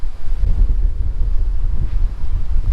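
Strong wind buffets the microphone beside choppy water where sailboats and paragliders are out, a continuous loud roaring rush with gusty swells and no speech.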